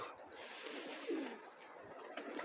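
Pigeons coo softly in a brief low burst amid steady outdoor hiss, with a pigeon flock kept for bathing nearby; the calls are faint and mid-distance, no voices.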